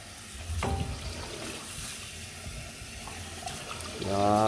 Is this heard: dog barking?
no